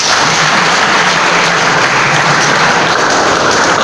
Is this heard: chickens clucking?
no